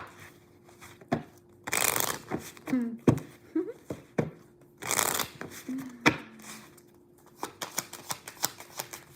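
A deck of tarot cards being shuffled by hand in bursts of riffling and sliding, with quieter pauses and soft handling clicks between, close and without talk.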